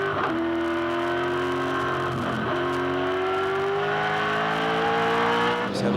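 A V8 touring car from the 2005 Supercars championship race at Shanghai International powers along the back straight under full throttle, its engine note loud and close, climbing steadily in pitch with brief lifts between gears.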